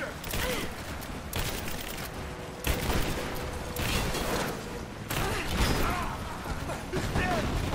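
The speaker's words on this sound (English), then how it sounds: "I'm taking fire!" Video game gunfire in Rise of the Tomb Raider, repeated loud bursts of shots and clattering mechanisms in several waves, close and dense throughout, with shouted voices in between.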